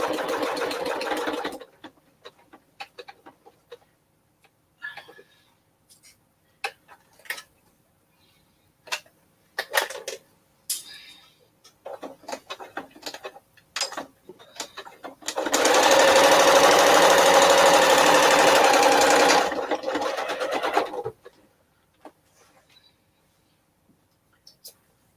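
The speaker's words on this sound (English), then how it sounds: "We're just going to do a straight stitch because that way, if I stitch it, it's not going to slide around on the bag." A sewing machine straight-stitches a fabric project bag, starting with a short burst, then sporadic quiet clicks and handling noises, followed by a sustained loud run of stitching lasting several seconds before stopping.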